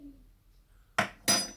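Two sharp metallic clinks of a utensil knocking against a cooking pot while onions and chili are mixed, quiet room tone between and no talking.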